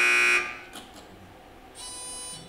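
A loud electronic quiz buzzer blares at the start of a high school academic quiz match, then cuts off, followed by quieter hall noise and a second, softer buzzer-like tone near the end.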